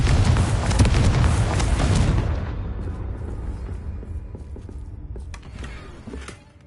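A Confringo fire spell explodes in Hogwarts Legacy, a loud, dense blast that fills the first two seconds, then a long rumbling decay that fades away, with a few sharp crackles near the end.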